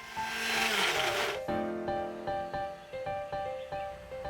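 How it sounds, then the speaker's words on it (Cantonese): A blender grinds the remaining sambal chili ingredients with a little oil. It opens with a loud whirring burst, then settles into a run of short, rhythmic pulsing whirs. "剩翻嘅材料都攞去攪碎啦"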